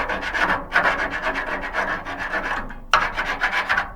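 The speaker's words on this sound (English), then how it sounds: "the way I like to do these hinges is take some 80 grit, scuff up the hinge" Hand sanding a hinge with 80 grit sandpaper, loud close rasping strokes in a steady back-and-forth rhythm with one short pause.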